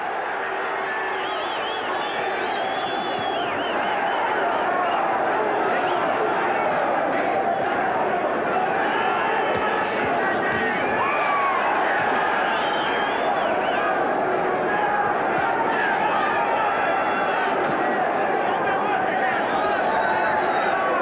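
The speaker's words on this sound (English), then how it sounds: "as you can see by the capacity crowd at the pit, really has got them going" A capacity crowd at a boxing arena in a WBO super flyweight bout, cheering and roaring continuously as a dense, loud wall of chatter and shouting that holds for the whole stretch, with a commentator talking over it.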